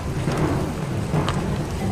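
Steady heavy rain pouring down with a low rumble underneath, dense and continuous throughout.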